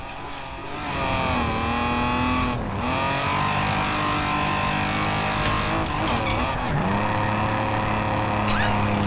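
A 1988 BMW M5 engine in the Forza Horizon 4 racing game drones loudly and steadily, revving up and easing off in smooth sweeps with brief dips between gear changes, and no talking over it.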